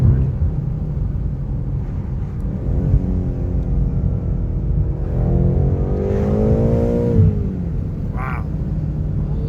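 A 2020 BMW M8 accelerates hard, its exhaust rising in pitch as the revs climb through a gear, then dropping back. A rumbling idle and road noise run underneath, close to the car.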